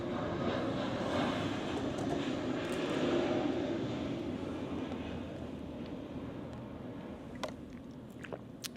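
An airplane drones overhead in Melbourne as a steady, broad engine roar that slowly fades, with a few faint clicks near the end.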